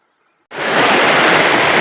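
Mangardora waterfall in Nabarangpur, with water falling over rocks. After a brief quiet start, a loud, steady rushing roar of falling water sets in abruptly and fills the rest of the clip.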